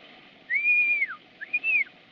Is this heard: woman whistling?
yes